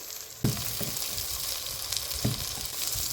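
Vine brinjal fries with salt and turmeric in a pan, a soft steady sizzle punctuated by a few thudding stirs of a spoon, quiet and close.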